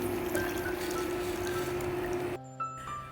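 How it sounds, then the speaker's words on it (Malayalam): Water poured into a saucepan along with ragi mix, a steady continuous pour and trickle that runs close and clear for over two seconds, then stops abruptly, followed by a faint clink. "അതിനായിട്ടൊരു സോസ് പാൻ വെച്ച് അതിലേക്ക് ഒന്നര കപ്പ് വെള്ളവും കൂടെ തന്നെ റാഗി മിക്സ് കൂടെ ചേർത്ത് കൊടുക്കാം"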